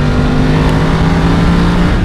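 BMW F850 GS mid-size adventure motorcycle engine running steadily with a smooth, continuous drone, holding revs close and fairly loud throughout without a sharp climb.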